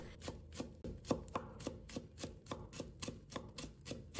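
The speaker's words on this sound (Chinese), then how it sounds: "接着我们再准备一把清洗的韭菜，把它切成末" Knife chopping washed chives into fine pieces on a board, a quick steady run of close, crisp taps, with no voices.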